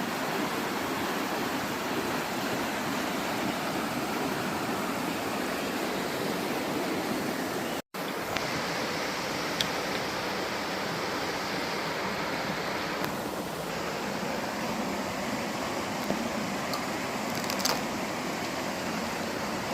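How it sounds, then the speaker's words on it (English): Turtletown Falls waterfall rushes in a steady, dense roar of broadband water noise that continues unbroken apart from a brief cut partway through, with no voices. "There's our other waterfall."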